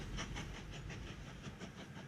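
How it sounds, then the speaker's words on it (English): A train runs on rails in the Mashinky railway-building game, giving a steady, rhythmic clatter of wheel clicks repeating every quarter second or so over a continuous rumbling hiss, at moderate volume with no talking. "So we can have a look at the train going through there."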